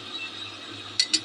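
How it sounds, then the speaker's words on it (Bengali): A lid goes onto a cooking pot while spiced chickpea curry cooks, giving two quick close clinks of metal or glass near the end, over a quiet steady background hum. "এবার আমি ঢাকনাটা দিয়ে ঢেকে দিলাম।"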